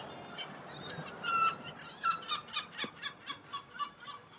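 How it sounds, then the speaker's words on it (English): Birds call outdoors in a repeated, evenly spaced series of chirps, moderately faint over a quiet background hiss. "Isn't it lovely when all you can hear is the birds"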